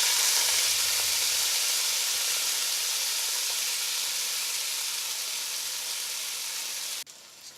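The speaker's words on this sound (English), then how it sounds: "Fry the rice on high heat for a minute." Soaked basmati rice with cardamom sizzles in a hot pot over high heat, a loud steady hiss of frying that fades slightly before dropping off abruptly near the end.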